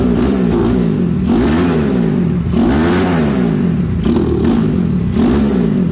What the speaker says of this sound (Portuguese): Escutou o barulho do motor ali,